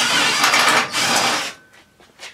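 A power driver whirs loudly and steadily in two long bursts while backing screws out of the hood grille on a Murray widebody riding mower, then drops to faint clicks and a short final whir.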